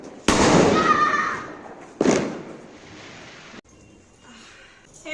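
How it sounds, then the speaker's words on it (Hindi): Diwali firecrackers go off nearby in two sharp, loud bursts a couple of seconds apart, each crack trailing off in a crackling, hissing decay before a quieter stretch. "पटाखे वगैरह हमने छोड़ दिए हैं"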